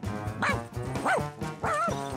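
A cartoon dog gives three barks in a row, evenly spaced, each a bright yelping bark with a rising-falling tone, heard over a soft patterned musical backing.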